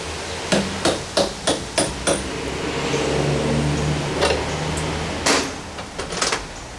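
A metal punch is struck with a hammer against a same-size bolt while working on a party barge, six sharp evenly spaced blows followed by a pause and a few more scattered hits, close and loud over a steady mechanical hum.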